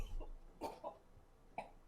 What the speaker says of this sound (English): That sounds like a cough.